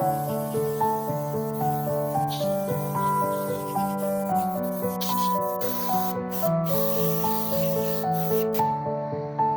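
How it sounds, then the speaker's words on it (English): An airbrush sprays white paint through a stencil onto a classic car design in several short hissing bursts, set against steady tonal background music. "I do not spray the white fully, so that red still shines through."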